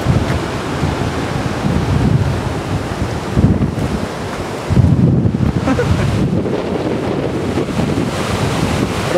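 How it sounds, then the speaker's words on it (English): Niagara River rapids about 200 feet above the falls roar in a dense, continuous rush of churning water, loud and close, with wind buffeting the microphone and brief surges in intensity. "right now, we're looking at the rapids. Like 200 feet before the falls, and it's just a very soothing, the noise is very soothing."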